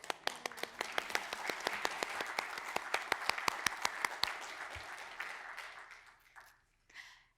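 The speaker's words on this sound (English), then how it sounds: "Let's give them a round of applause one more time." Applause breaks out among the audience at a board meeting, with many distinct hand claps at close range that thin out and fade toward the end.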